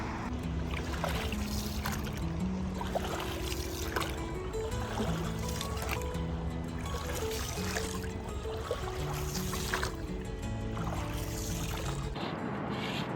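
A small fishing boat moves across water on a fishing outing, with a steady low motor drone and splashing water running continuously at close range.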